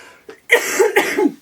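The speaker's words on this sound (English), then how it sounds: "a cough, excuse me." A woman with a sore throat coughing, two or three close, harsh bursts in quick succession after a short breath.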